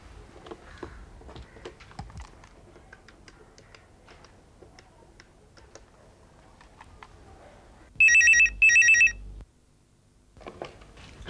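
Two sharp bursts of an electronic telephone ring sound close by in a quiet room, following a stretch of faint clicking and tapping, with a brief rustle after.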